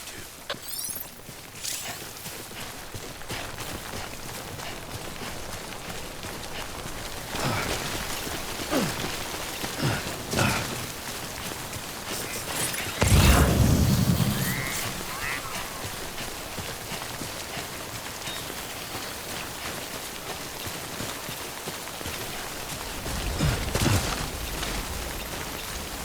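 Timefall rain in the game Death Stranding Director's Cut on PS5 falls as a steady, dense hiss throughout, with occasional soft footstep-like thuds and a brief louder gust of noise midway.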